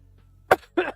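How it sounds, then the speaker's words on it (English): A single close, harsh cough right into the microphone, followed by a short throaty throat-clear, in otherwise quiet surroundings. "didn't mean to cough right in the mic"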